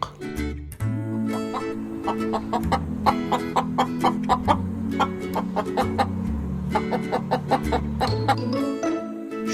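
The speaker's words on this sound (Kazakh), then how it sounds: "Тауық." A hen clucks continuously in a children's cartoon about farm birds, with short, rapid, close clucks repeating over steady background music.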